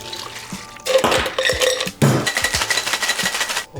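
Liquid poured into a cocktail shaker while mixing a Clover Club cocktail, with a steady splashing run broken by a short pause and clinks of glass and metal bar tools.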